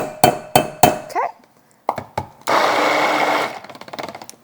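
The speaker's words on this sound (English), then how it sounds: "I'm gonna give these a quick stick blend before I add my fragrance in." Several sharp clinks and taps against a container, then a stick blender buzzes for about a second as it mixes cold process soap batter, followed by more faint knocks.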